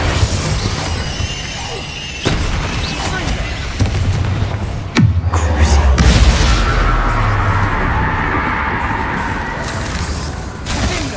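Loud spell explosions and crashing blasts in the Hogwarts Legacy video game, with heavy low booms repeating through a dense, continuous combat mix and a voice speaking over it.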